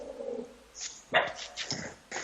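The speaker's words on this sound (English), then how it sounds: "Sorry, dogs are going silly." Dogs indoors let out a few sharp, close barks and yips in quick bursts, separated by short gaps, with a faint murmur of talk at the start.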